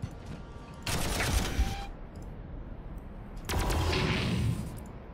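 Bursts of gunfire from units in the Warhammer 40,000: Armageddon strategy game, two sustained volleys of rattling shots separated by a lull, over low background game ambience.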